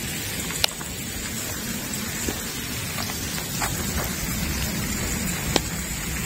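Heavy rain falls steadily at La Prairie Beach in Mauritius, a dense continuous hiss with a few sharper drips and taps standing out, close and unbroken.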